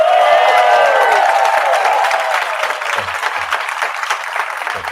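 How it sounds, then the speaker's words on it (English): A pitch-competition audience cheers and applauds on cue, a loud burst of whoops and dense clapping that gradually eases over about five seconds. "can you give a big cheer and a big round of applause"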